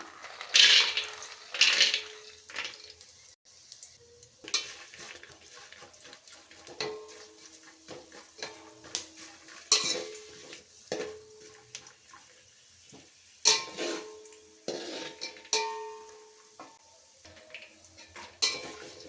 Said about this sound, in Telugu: పల్లీలు ఆల్మోస్ట్ ఎర్రగా వేగుతున్నాయండి